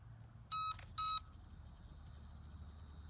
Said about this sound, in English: We only got 2 beeps.